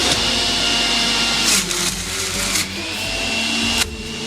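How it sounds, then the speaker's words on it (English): A Sage Nutri Juicer Pro's motor runs at a steady, loud whirring hum while juicing an apple, with a few brief surges and clunks as the fruit is pushed through. No one speaks. "you're meant to wait for the motor to get to full speed before you start putting the fruit in"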